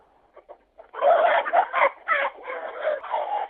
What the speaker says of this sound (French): pouvez-vous prendre un coq dans les bras